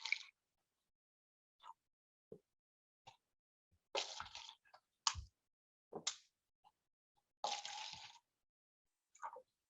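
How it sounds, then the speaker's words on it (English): Water is poured into several cups in short separate splashes and plops, each lasting about a second, close and clear against near silence between pours. "grab some water, and you're going to fill each of the cups about half full"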